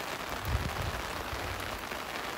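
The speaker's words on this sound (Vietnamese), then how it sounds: "đường đi lên đỉnh nhưng mà giờ mưa to quá" Heavy rain pouring on a mountain summit path in Vietnam, a dense, steady wash of drops with low rumbling gusts, loud and continuous, no voices.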